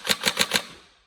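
A Tokyo Marui 416 airsoft rifle with A5 grip and stock fires one short full-auto burst of four rapid, evenly spaced cracks, loud and close, with a brief fading tail and no talk.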